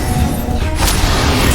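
A Confringo blast spell explodes in the Hogwarts Legacy video game, a dense crashing burst with a sharp flare near the end, loud and filling the whole short span without any voices.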